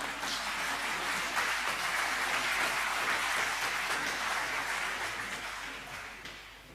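Sustained applause fills a hall at a Tamil Sangamam talk, many hands clapping in a thick, even wash that holds steady and then gradually fades toward the end, with no voices over it.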